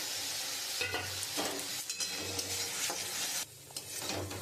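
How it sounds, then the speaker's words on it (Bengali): Spice paste of ginger, garlic and onion with turmeric, chili powder and salt sizzling hard in a pan for egg curry, stirred briskly with scraping strokes over a constant loud fry, close up with no voices. "আমি মশলাটা দিয়ে খুব সুন্দর করে কষিয়ে নিয়েছি।"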